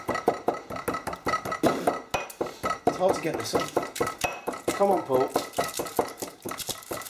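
Mentos candy is ground in a pestle and mortar in a kitchen, a steady run of hard rhythmic knocks and grinding clinks close by, while a person talks over it.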